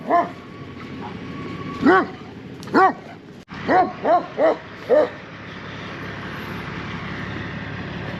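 Farm dogs bark and yip in separated bursts, some single and some in quick runs of three or four, loud and close over a steady outdoor background.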